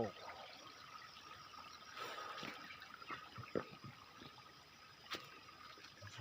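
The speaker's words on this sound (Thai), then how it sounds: "น้ำไหลลงจากภูเขาไป" Steady rushing water flows down a mountain with a broad hissing roar, a stream running outdoors, with faint occasional knocks mixed in.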